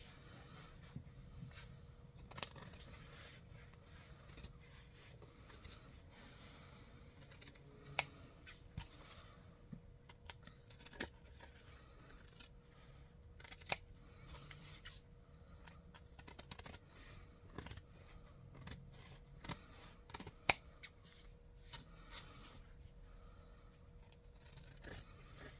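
Quiet snipping and scraping as a cross-stitch block finish is trimmed with scissors, with short sharp cuts scattered irregularly over a soft background hiss.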